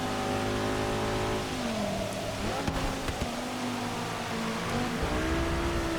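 Racing car engines from Forza Motorsport 6 roar steadily throughout, revs falling and rising through gear changes with several cars close together, loud and continuous with no talk.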